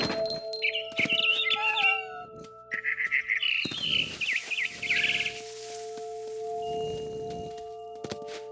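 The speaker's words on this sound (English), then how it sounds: "Then I heard chirping outside my window. It was a barn swallow going back to her nest." A barn swallow chirps and twitters in bursts of rapid, high calls in the game What Remains of Edith Finch. Scattered soft thuds and rustles accompany the calls, and a quieter stretch follows near the end.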